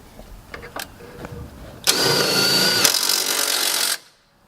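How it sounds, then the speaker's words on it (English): A power tool runs up a Miata coilover bolt, with a couple of faint knocks first, then a loud close whir lasting about two seconds before cutting off. "Once you have that bolt nice and snug"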